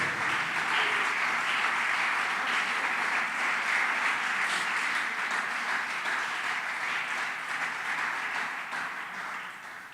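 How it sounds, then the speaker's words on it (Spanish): A church congregation gives a long, sustained round of applause for the Lord, a broad steady roar of clapping that holds for nearly ten seconds and gently tapers at the end. "Dale un aplauso fuerte al Señor"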